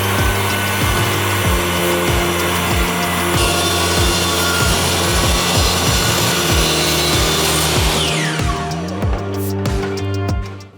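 A power saw rips a wooden header down for a window pelmet. A loud, close, continuous cutting roar runs with a steady throbbing motor hum, then winds down and stops near the end.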